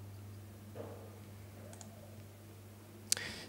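Soft, sparse clicks from tapping through the K2 DocuApp, with a few faint taps and one sharper click near the end over a low steady hum.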